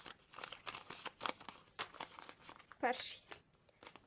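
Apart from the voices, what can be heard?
crinkling of small packets being handled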